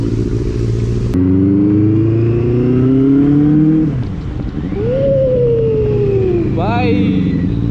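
Mahindra Thar fitted with 32-inch tyres revving as it drives, engine pitch climbing and falling through gear changes, loud and close throughout, with a brief high whine near the end.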